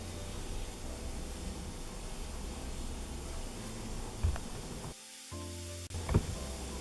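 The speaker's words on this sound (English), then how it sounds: "Let's start grilling." A pork steak grills in a stovetop pan with a steady, soft sizzle throughout, interrupted by a couple of brief clicks and knocks.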